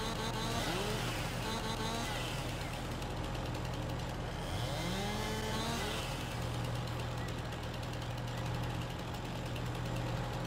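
Chainsaw cutting timber in the Farming Simulator 22 forestry game, a loud continuous engine drone with rising pitch sweeps as the saw revs and bites, holding steady throughout with no pauses.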